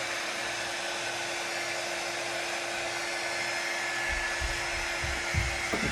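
A hair dryer blows steadily over wet chalk paste, a constant airy whir at close range with a few low bumps of handling near the end.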